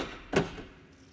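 Door locking on a Mercedes-Benz G-Wagen: one short, solid mechanical clack stands out against quiet surroundings, then fades quickly.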